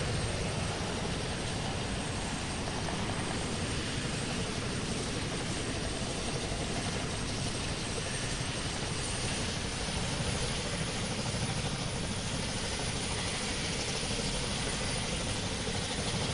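Rotor and engine drone of a US Coast Guard helicopter passing overhead in the flight game PTFS, a steady, fairly loud broadband roar that persists throughout with no talking.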